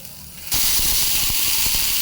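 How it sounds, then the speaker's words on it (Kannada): A ragi dosa flipped onto a hot pan erupts into a loud, steady sizzling hiss that starts abruptly and holds, with faint crackles running underneath. "ಈಗ ಇದು ದೋಸೆ ಆಗಿದೆ ಒಂದು ಸರಿ ಉಲ್ಟ ಹಾಕಿ ಒಂದು ಸ್ವಲ್ಪ ಬೇಯಿಸ್ಕೊಳ್ತೇನೆ"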